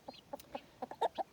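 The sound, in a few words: chicken clucking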